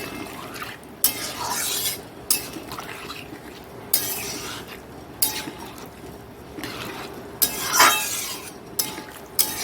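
Boiled potatoes mashed and stirred in a pot of dal, with a spoon scraping and knocking against the pot in repeated sharp clinks over a steady soft stirring, close and fairly loud, without talk.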